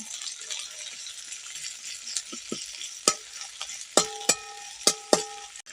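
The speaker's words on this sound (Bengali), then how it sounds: "এবার এর মধ্যে পেঁয়াজ কুচি দিয়ে দিচ্ছি। পেঁয়াজ রসুনটাকে একটু হাফ ভেজে নেব।" Chopped onion and garlic half-frying in a pan, a steady soft sizzle broken by sharper clinks and scrapes of stirring that grow more frequent toward the end; no talking.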